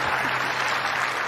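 Tennis spectators at the 2021 US Open applaud during a fourth-round match between Karolina Pliskova and Anastasia Pavlyuchenkova, a dense, steady burst of clapping throughout.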